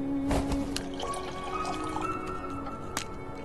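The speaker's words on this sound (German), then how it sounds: "Mit dem Schlauch kann ich das Benzin aus dem Tank saugen." Petrol siphoned from a tank through a hose in the video game Black Mirror III, a close liquid gurgling and dripping stream with a few sharper drips, steady and alone without speech.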